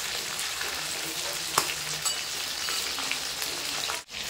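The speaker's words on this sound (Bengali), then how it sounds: "তো দেখো আমি এরকম উল্টে পাল্টে কিন্তু লাল লাল করে ভেজে নেব।" Chicken chaap deep-frying in hot oil, a steady close sizzle and crackle running throughout as the pieces are turned, with a few sharp pops and a brief dip near the end.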